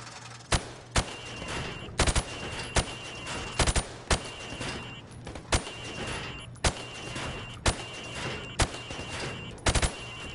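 Rifle fire at pop-up targets on a shooting range in Call of Duty 4 Remastered: a rapid series of sharp, loud gunshots, some single and some in quick double and triple bursts, over a low steady hum.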